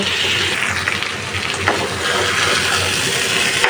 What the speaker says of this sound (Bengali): আর এখন পানি দিব